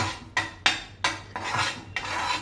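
A spoon stirs and scrapes gram flour (besan) roasting in a pan over low gas, making close, rhythmic metallic scrapes, about four strokes with short gaps between them.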